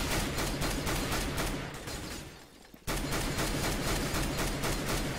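Rapid automatic sniper rifle fire in the CS:GO video game, dense repeated loud shots with a brief lull in the middle before the firing resumes abruptly, no talking.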